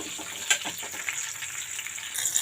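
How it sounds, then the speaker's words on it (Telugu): Urad dal, dried red chillies and curry leaves fry in two spoons of hot oil in a pan, a quiet, close crackling sizzle with small pops over a couple of seconds. "ప్యాన్లో 2 స్పూన్స్ ఆయిల్ వేసి కొంచెం మినపప్పు వేసాను."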